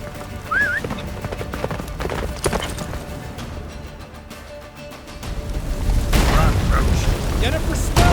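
Roach the horse gallops in The Witcher 3, hooves clip-clopping steadily amid a busy game soundscape with deep booms and mechanical rumble, a whinny early on, and the action swelling louder toward the end.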